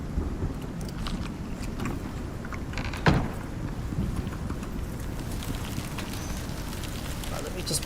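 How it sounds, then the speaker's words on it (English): A storm rolls in within the survival game Icarus, with steady wind and rumbling low noise battering crops, broken by one sharp, louder crack of thunder near the middle; the roar is continuous and close. "that's the sound of all my crops getting damaged by the storm that is already coming in."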